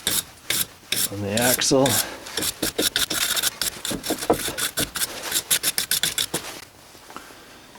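Rapid back-and-forth rasping of a wire brush scrubbing rusty ball joint stud threads on a 2003 GMC Sierra/Chevrolet Silverado 2500 front axle, close and loud in rhythmic bursts, with a brief spoken remark early on.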